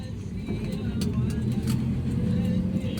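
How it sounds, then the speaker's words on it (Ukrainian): A car pulls up at a hot beach resort in Hurghada, Egypt, its engine a steady low rumble throughout, close by and continuous. "Під'їхала машина, яка зараз повезе мене до номера"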